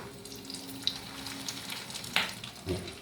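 Fish roe fritters frying in hot oil, a steady sizzle broken by a few sharp pops and crackles, close by with no talking.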